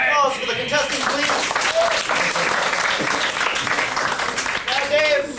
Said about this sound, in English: Round of applause for the contestants, please